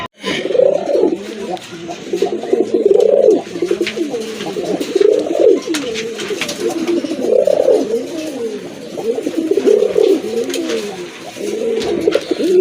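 A male Rajgolla pigeon, one of a deep red pair, coos repeatedly up close, its throaty rolling calls coming in a regular series of phrases over light background noise.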